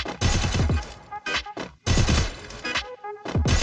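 Gunfire bursts from a shooter video game, loud close bursts of rapid shots in several clusters with brief gaps between them, no talking.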